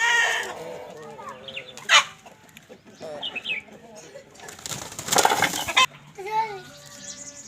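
Long-tailed breed hens cluck on and off nearby, mixed with wing flapping, scuffling and a voice talking in the background.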